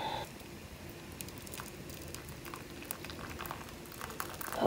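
Hot tea poured into a cup, a steady, fairly quiet liquid trickle that runs unbroken for several seconds and swells a little at the end.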